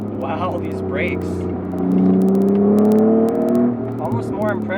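Close in-cabin roar of a supercharged Acura NSX pulling hard on a canyon road, the engine pitch sweeping upward for a couple of seconds before easing off, with someone talking over it.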